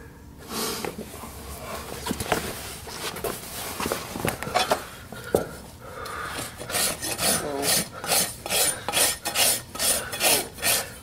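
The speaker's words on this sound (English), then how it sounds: "before I start rasping." A farrier rasps a horse hoof in a shoeing shop with steady back-and-forth filing strokes, loud and close, settling into an even rhythm of repeated rasping passes toward the end.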